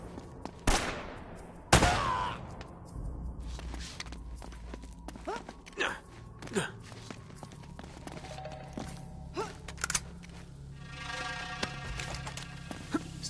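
Scattered gunfire in the video game Uncharted: a couple of loud sharp shots early on, then quieter intermittent pops and thuds under distant game ambience, with voices speaking at times.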